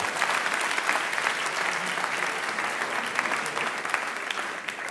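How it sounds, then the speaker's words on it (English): An audience applauds a mental-math performer who has just squared numbers aloud, a dense, sustained burst of clapping from a large crowd that carries steadily across the whole stretch. "Give them a round of applause."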